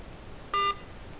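A single short electronic telephone tone sounds once, clear and brief, over quiet background hiss, signalling an incoming call during a TV phone-in programme.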